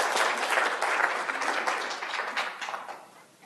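Sustained applause from a symposium audience welcoming a speaker, a dense wash of many hands clapping steadily for several seconds before gradually tapering off.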